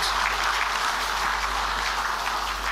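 An audience at a live Meghalaya Day event applauds firemen with dense, sustained clapping that fills the whole stretch, close and loud, with no speech over it.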